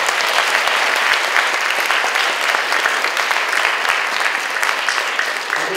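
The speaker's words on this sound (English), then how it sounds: "let's have a big round of applause for her" Sustained applause from a sizable audience, dense clapping at an even level throughout without voices.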